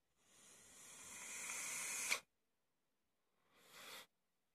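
Vapor is drawn through a Kennedy Competition clone atomizer with wide-open bottom airflow, making a soft rising hiss for about two seconds that cuts off sharply, then a shorter second hiss after a brief silence.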